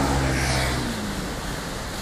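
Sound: Adige river in flood, rushing water in Verona

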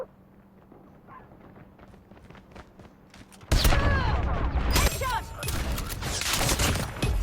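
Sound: BY15 shotgun shots in video game Call of Duty Mobile

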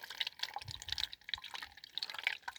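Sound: pouring nettle liquid manure through a strainer

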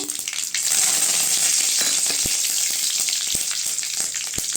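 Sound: mustard seeds and curry leaves sizzling in hot oil

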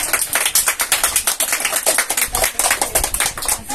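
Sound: applause for the toy sponsor

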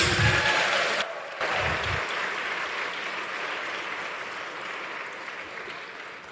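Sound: church congregation applauding

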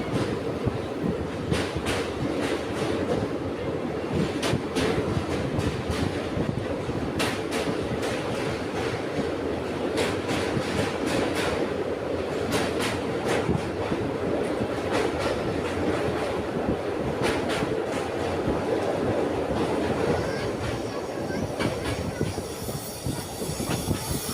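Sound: train crossing a bridge

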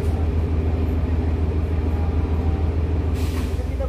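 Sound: commuter train departing Surabaya Pasar Turi station

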